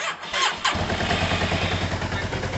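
A Yamaha TMAX scooter engine, just after a carburetor clean, cranks and catches, then settles into a loud buzzing idle with slight revs that won't climb, close up.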